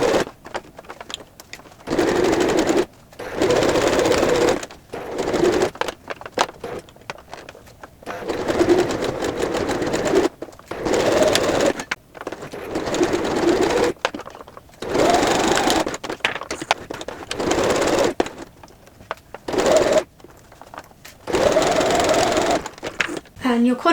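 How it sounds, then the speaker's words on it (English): A sewing machine runs in repeated bursts while stitching a slouchy fabric tote bag, with short pauses between runs, close and fairly loud; a voice talks at times between and over the stitching. "So when you're sewing it, you don't want to sort of catch it and for it to just sew like this."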